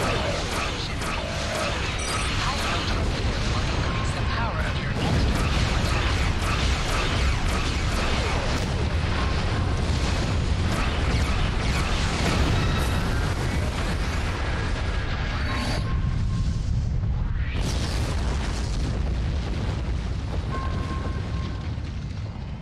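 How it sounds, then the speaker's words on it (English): High-yield torpedo blasts in the space combat game Star Trek Online, heavy booming explosions and rumbling debris layered over a continuous loud roar that briefly thins out near the end. "Press the circle button to activate high-yield torpedo."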